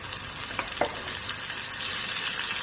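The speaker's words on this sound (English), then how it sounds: "once that oil is hot, we're going to add our cumin seeds" Cumin seeds sizzle in hot oil with a steady frying crackle and a few sharp pops, close and continuous, with no talk.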